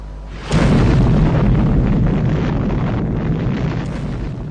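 A car battery explodes in a laboratory test, a sudden loud explosive boom followed by a sustained roaring rush of noise that slowly fades.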